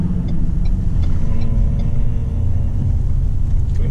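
A 2019 Ford Ranger pickup accelerating on the road, heard from inside the cab as a steady low engine and road rumble that holds loud and even throughout.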